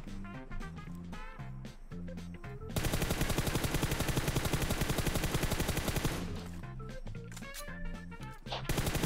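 Rapid automatic gunfire in a multiplayer video game session, sustained bursts of shots filling several seconds, loud and close, with sharper single shots before and after.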